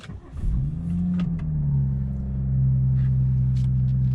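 A 2017 BMW 440i coupe starts up close by, the starter catching into a brief rev that settles into a steady, rumbling idle for several seconds.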